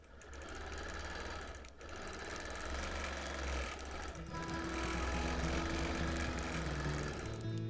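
A sewing machine doing free-motion quilting on a birthday quilt, fast rhythmic needle chatter running continuously up close, briefly interrupted by a small bump, then resuming steadily.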